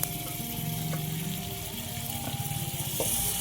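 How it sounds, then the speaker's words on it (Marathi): Ghol greens, a wild summer leafy vegetable, sizzle in hot oil tempering as they are sautéed in a Marathi home kitchen, a soft close crackle under light clatter, with no talking. "टाकून देऊ आपण घोडची भाजी आता या फोडणीतून"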